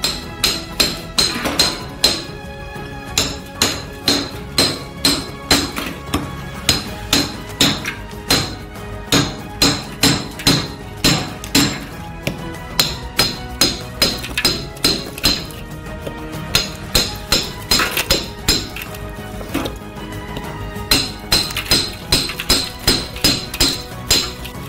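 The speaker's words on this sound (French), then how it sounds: "À l'aide d'une hache et d'un marteau, nous avons fendu ces blocs en plein petits morceaux" An axe and hammer split blocks of ice into small pieces in a bowl for street-food rolled fruit ice cream, a long run of sharp, close metallic cracks and clinks in steady rhythm, with no talk.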